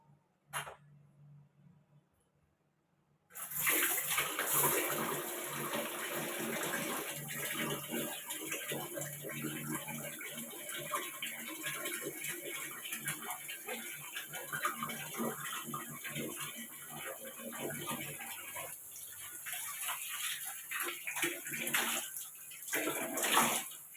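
Tap water runs steadily into a sink while a face is washed with face wash indoors, a loud continuous splashing stream lasting many seconds with no talking.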